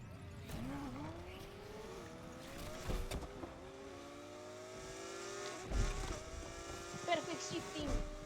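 A V12 car engine in Need for Speed Unbound revs and shifts repeatedly, pitch rising and dropping, fairly faint with brief clicks and bumps.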